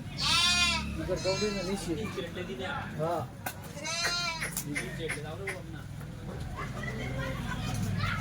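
Kathiawari goats and sheep unloaded from a truck at a livestock market in Chalisgaon bleat repeatedly, loud and close, over crowd noise and people talking nearby.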